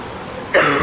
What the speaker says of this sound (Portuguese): A tosse do inverno pegou você?